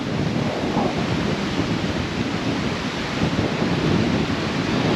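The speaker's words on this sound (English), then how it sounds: "To give you some idea of how windy it is," Strong coastal wind of around 30 knots roaring and buffeting the microphone in a constant, loud rush at Chilli Beach, Cape York, with no voices.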